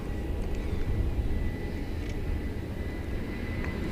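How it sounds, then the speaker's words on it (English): An airplane at DFW airport makes a steady, continuous engine roar throughout, loud and unbroken, with no voices over it. "It's just so much fun to see all these planes."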